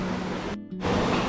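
Kanthanpara waterfall in Wayanad gives a steady broadband rushing roar, heard from a viewpoint. It drops out abruptly for a moment midway, then returns slightly louder.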